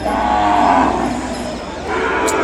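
A calf at a cattle market for Ongole bulls in Kodada, Telangana moos loudly in a long, sustained low call, close by, with steady market noise underneath and no talk.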